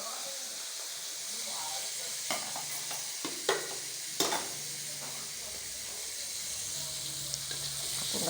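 Salted fish frying in a pan in a home kitchen, a faint steady sizzle with a few sharp pops and clatters of stirring, quiet and close, with brief talking in the background.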